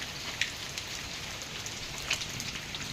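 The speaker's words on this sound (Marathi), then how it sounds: "बघा इथं दाखवतो पाऊस" Monsoon rain in the Konkan region falls steadily, a soft even wash of drops with no voices and a couple of faint ticks rising briefly above the hiss.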